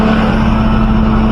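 A vehicle's engine hums steadily and loudly close by on the winding Sathyamangalam ghat road, a constant low drone with road noise and no voices.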